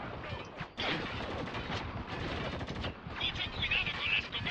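Rapid gunfire in the Spec Ops: The Line shooter game on PC, rattling automatic bursts and sharp shots at moderate loudness, nearly continuous, with a voice shouting orders over the firing.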